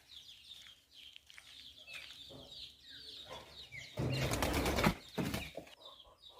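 A rooster and chickens on a farm make soft clucks and calls, then a loud burst of wing flapping stands out near the end, with quieter fowl sounds around it.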